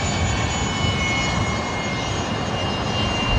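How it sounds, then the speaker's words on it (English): A Qantas Link Embraer 190 jet in Alliance livery at Brisbane Airport gives a continuous broad engine roar with faint high whine, loud and steady throughout, alone without talk. "Qantas Link 1890 at the front, which is an Alliance liveried Embraer 190 going up to Cairns"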